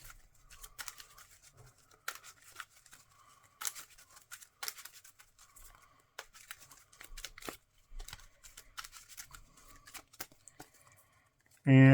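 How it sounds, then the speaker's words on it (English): Marvel Champions cards are shuffled by hand at a tabletop, a run of quick crisp riffles and soft slaps close by, ending with a brief louder sound. "So let's shuffle that obligation in."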